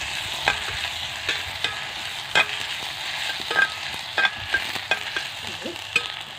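Masala adai batter, spread on a leaf in a pan, cooks with a steady low frying sizzle, broken by several sharp clicks and scrapes as it is stirred and handled nearby.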